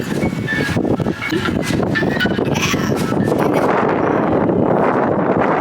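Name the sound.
strong wind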